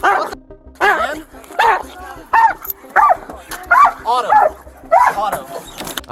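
A police dog barks and yelps repeatedly while attacking an officer, loud close bursts of barking and whimpering in an uneven rhythm over shouting voices.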